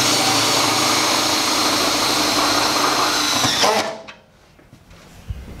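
Power drill driving screws into a bracket for a hard-wired Intelli-Shade AC motorized shade inside a headbox, a loud steady whirring run that stops abruptly, leaving near silence with a faint knock.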